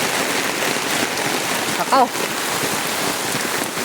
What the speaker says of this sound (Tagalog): Ang ganda ng ulan